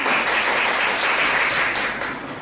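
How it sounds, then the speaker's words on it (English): An audience at a Toastmasters club meeting claps together in a steady, dense round of applause that lasts a couple of seconds, with no voices over it. "Give him also a big round of applause."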